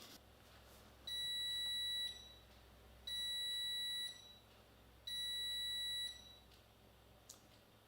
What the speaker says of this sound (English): So the timer just expired.